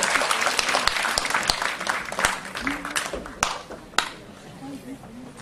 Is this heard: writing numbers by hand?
no